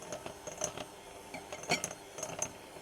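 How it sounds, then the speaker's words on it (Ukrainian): Powdered sugar is stirred into almond cookie dough outdoors, with light utensil clinks and taps against a bowl, faint and close, in scattered bursts. "І тепер ми сюди додаємо цукрову пудру, перемішуємо."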